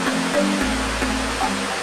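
Steady rushing wash of a waterfall with water plunging into a deep pool, a continuous broadband roar with a low rumble underneath, sounding close and unbroken with no voices.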